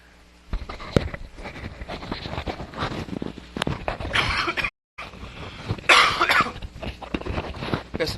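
A person coughs repeatedly during an Instagram live recording, several sharp coughs and throat-clearing bursts spread through the clip, close to the microphone, with a brief dropout near the middle.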